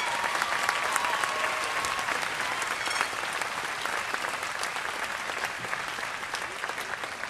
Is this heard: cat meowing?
no